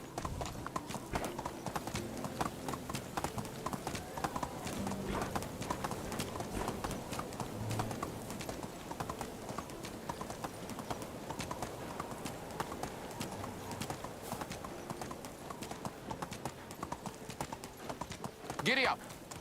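Horse hooves clip-clop in a steady, quick rhythm while riding in the video game Medieval Dynasty, continuous and fairly close, with a brief whinny-like accent near the end.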